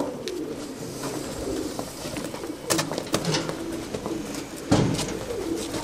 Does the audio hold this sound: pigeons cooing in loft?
yes